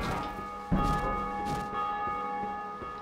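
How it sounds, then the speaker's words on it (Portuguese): A church bell rings in Dark Souls 2, its sustained metallic tone carrying through repeated strikes, each followed by a long shimmering decay that layers over the next. "O intuito de vir aqui era só pra tocar esse sino mesmo."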